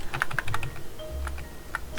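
Several quick key presses on a computer keyboard, the Ctrl+T shortcut pressed during Photoshop work, clicking in a short irregular burst, close and fairly clear with no talking.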